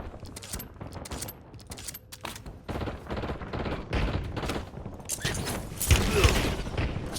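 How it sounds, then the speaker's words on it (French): Sustained gunfire in the battle royale game Call of Duty Warzone, dense bursts and shots throughout with mechanical clatter, growing louder toward the end, with no talk. "J'ai pris des tirs."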